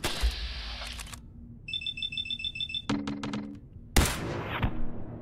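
Gunshots in Fallout 4: a quick burst of sharp shots, then a lone louder crack near the end, mixed with electronic alarm-like beeping tones from the game.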